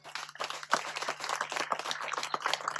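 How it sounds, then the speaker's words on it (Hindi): Audience applause at a Hindi community gathering, a dense crowd of hands clapping steadily at moderate loudness, sustained for under three seconds over a faint constant electrical hum, with no talking. "तो मैं जोरदार तालियां उनके लिए चाहूंगा।"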